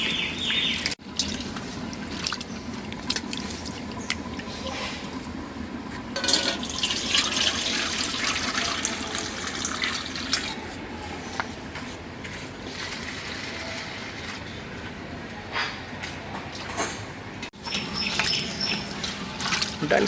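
Lentils (dal) being washed in water make a steady close splashing and trickling like a running tap into a sink, with sloshing swirls and occasional louder surges, continuous and unvoiced.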